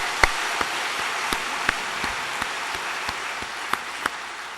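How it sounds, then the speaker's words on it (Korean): Sparse, faint claps from a church congregation snap out one at a time at irregular intervals over a soft, hissy background. "2015년 새해를 허락하신 하나님께 영광의 박수를 올려드리겠습니다."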